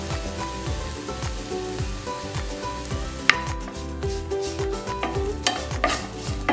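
Onion and capsicum sizzle steadily in a hot pan while a utensil stirs and scrapes them in an irregular rhythm, with one sharp clack partway through.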